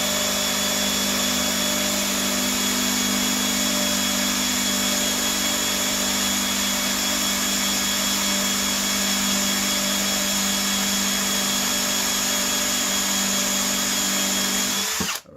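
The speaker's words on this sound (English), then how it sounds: "this is just burning a hole into the wood. It's not even drilling inside of there" A Ryobi power drill runs continuously, its bit spinning and burning into wood without cutting through, giving a loud, steady motor whine with strong even tones that cuts off abruptly at the end.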